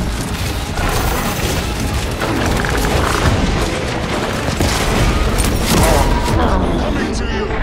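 Grenade blasts and rapid gunfire fill a battle in the Space Marine II video game, with dense, continuous booms and shot bursts up close alongside in-game voices.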